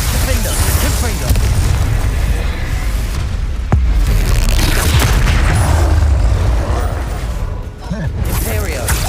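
Confringo spell explosions in the Hogwarts Legacy video game, loud booming blasts and bursts amid continuous battle noise, with voices talking over the fight.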